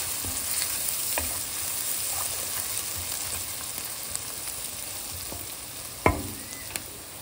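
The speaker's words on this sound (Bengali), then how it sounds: "পেঁয়াজগুলোকে লাইট গোল্ডেন ব্রাউন করে ভেজে নিচ্ছে।" Onions fry to light golden brown in a pan with a steady close sizzle that runs throughout, broken by a few brief stirring scrapes and clinks near the end.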